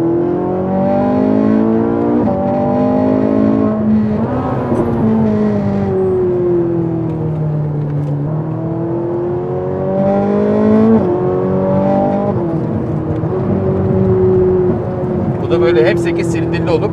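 A V8 petrol race car engine on a track revving hard in long rising and falling sweeps, loud and close throughout, with voices talking over the engine noise.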